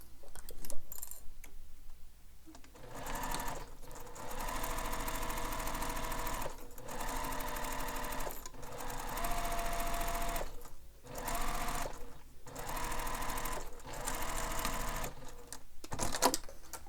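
A sewing machine basting fabric bag pieces together runs in long steady whirring bursts, loud and close, with short pauses between stitching runs and no talk.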